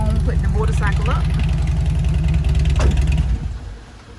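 A motorcycle engine idles nearby with a steady low rumble, a voice speaking briefly over it, before the sound fades away.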